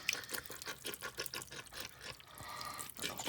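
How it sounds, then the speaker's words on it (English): Liquid poured from a large jar into a crock pot, a quiet run of rhythmic glugs and splashes that settles into a steadier trickle, close by, with no talking. "We're just gonna pour all that in there."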